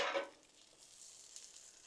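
Peppers and onions sizzle on a hot Blackstone griddle beside bacon-wrapped brats, a soft steady frying hiss after a brief louder clatter at the start, close with no talk.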